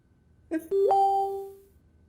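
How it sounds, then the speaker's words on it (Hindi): A doorbell in a home sounds a clear two-tone chime, a short first note followed by a longer ringing second tone that fades out in a quiet room. "दरवाजे की डोरबेल बजी है, मेहमान आ गए"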